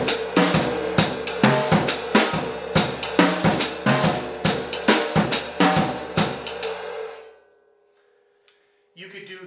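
A jazz drum kit plays a syncopated pattern, the hands moving clockwise around the drums on each bass drum note: loud, close, rhythmic hits with cymbal wash for about seven seconds, then fading to near silence before a brief final hit.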